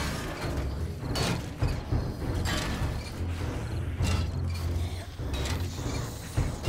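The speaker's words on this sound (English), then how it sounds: "So I think I'm gonna start wrenching some stuff." Wrenching salvage parts in the video game 7 Days to Die produces repeated mechanical creaks and ratcheting clanks in a steady loop, with occasional heavier knocks under a constant background hum.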